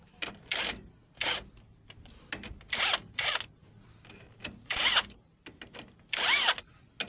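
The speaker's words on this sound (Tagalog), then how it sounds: "So mas madali ang trabaho kapag meron kayong ganito na impact. Mas mabilis." An impact wrench rattles in short repeated bursts, about six or seven close loud buzzes with quiet gaps between, while clutch parts are removed from a Honda CB125 motorcycle.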